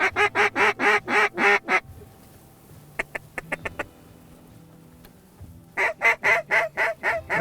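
Ducks over a cover crop field, a drake leading: loud rapid bursts of repeated quacking, a pause with a few sharp single calls, then another close volley of quacks.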